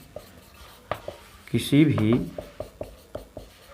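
Chalk or marker writing on a classroom board during a chemistry lesson, heard as close, brief scratchy strokes and taps, with a voice speaking in the clip.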